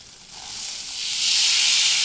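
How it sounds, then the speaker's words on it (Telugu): Bobbara gudalu (black-eyed peas) fry in hot oil in a pan, giving a steady bright hiss that swells louder and fuller halfway through and then holds as a continuous sizzle. "ఇలా ఎర్రగా నూనెలో గోలించాలి"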